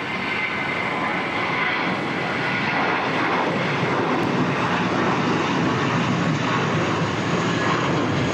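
Large airliner taking off at Auckland Airport in a steep climb-out, a loud, steady roar of jet engines holding for several seconds with faint voices underneath.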